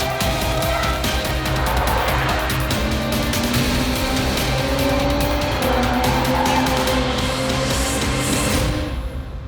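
A BMW M340i xDrive is driven hard through corners on a track, its engine roaring continuously with rising and falling pitch while the tires squeal in long sustained howls, loud and close with no talk.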